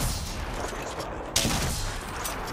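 Sustained rapid gunfire from a game fills the clip, a dense continuous barrage with one sharper burst near the middle.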